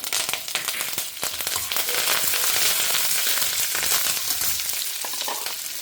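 A loud, dense crackling sizzle rises as mustard seeds, urad dal, chana dal, dried red chillies and curry leaves fry in hot oil for tempering, with rapid pops and spatters throughout.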